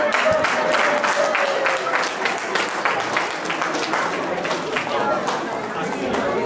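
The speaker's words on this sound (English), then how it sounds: "Round of applause for them." A crowd applauds people being introduced on stage, with steady, fairly close clapping mixed with chatter throughout.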